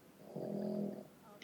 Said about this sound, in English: Oh, can you hear that? That's my dog.